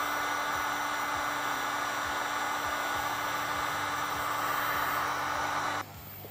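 A heat gun shrinks heat-shrink tubing onto a wire connector while fitting a winch on a Polaris Ranger XP 1000. It blows a steady, close, even hiss for almost six seconds, then the sound drops away abruptly.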